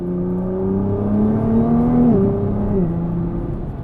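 Nissan GT-R T-Spec engine pulling hard on an open road, a steady loud mechanical drone rising in pitch, dipping briefly at a gear change, then climbing again.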